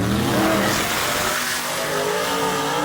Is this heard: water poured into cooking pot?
no